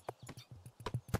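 Brief run of horse hooves clip-clopping in the video game Cricket Through The Ages, a quick string of close, soft hoofbeats in uneven rhythm.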